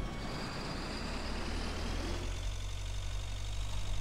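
A tractor engine in the farming game Agrar Simulator 2013 drones steadily with a low, even rumble and a faint whine on top, holding a constant level throughout without a clear rev spike.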